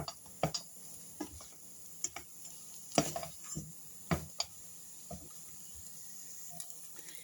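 A spoon works through profiterole cream cooking in a pot, making quiet scattered clicks and taps against the metal sides at an uneven rhythm, close by with a faint background hum.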